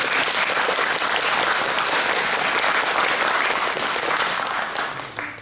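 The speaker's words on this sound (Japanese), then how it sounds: "まずはオミタブ監督とアサドゥザマンさんを拍手を持ってお迎えしたいと思います。" An audience at a film festival symposium applauds steadily to welcome a film director, a dense, even clapping that carries on for several seconds and tapers off at the end.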